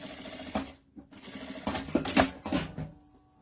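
A sewing machine stitching a seam on fabric for a men's document holder, with bursts of rapid mechanical whirring separated by brief pauses, close up and fairly loud, with no talk.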